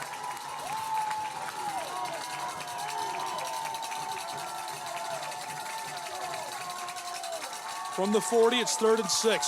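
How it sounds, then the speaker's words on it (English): Loud crowd noise fills a college football stadium in a steady roar, with a commentator talking over it and a brief swell of cheering near the end. "Crowd is loud."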